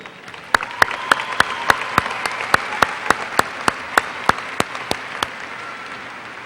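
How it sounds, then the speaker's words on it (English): Steady, evenly spaced claps at a high school graduation, about three per second, sound alone for several seconds like a small group or a single pair of hands applauding. "Please help me give them a round of applause"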